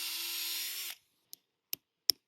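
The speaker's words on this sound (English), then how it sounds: "And we drill through." A power drill bores a tap hole into a maple tree, whining steadily up close for about a second before stopping, followed by three sharp clicks or taps.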